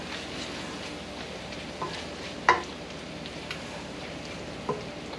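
Bacon frying in a pan, a steady low sizzle throughout with a few sharper pops and spatters, close and moderately quiet, no voices.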